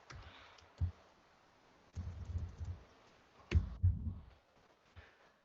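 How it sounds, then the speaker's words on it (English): Scattered bursts of typing on a new computer keyboard, a few short clusters of soft key clicks separated by quiet pauses, close and fairly faint. "New keyboard here."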